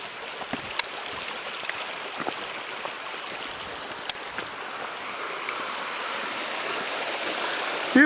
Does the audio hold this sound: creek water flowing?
yes